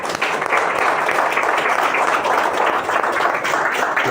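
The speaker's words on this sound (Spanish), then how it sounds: "Un aplauso." Audience at a talk on Vietnamese diplomacy gives a steady, fairly loud wash of applause, dense continuous clapping that holds evenly throughout with no speech over it.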